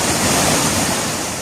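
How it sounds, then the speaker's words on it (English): Turbulent storm floodwater surges waist-deep through urban roads in Erdemli, a loud, continuous rushing roar with no talking. "Relentless storm waters overwhelm Erdemli, turning urban roads into turbulent,"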